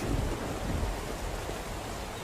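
Heavy rain pours in the open-world survival game SCUM, with low rumbling thunder and gusting wind swelling early and then settling into a steady, loud wash.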